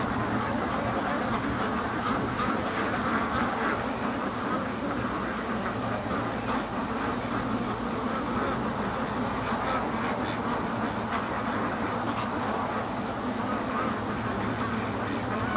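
Free-range ducks on an icy winter lake quack in a busy, overlapping chorus over a continuous low background rumble, the calls scattered and moderately distant throughout.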